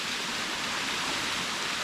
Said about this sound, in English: Oh, nice private waterfall.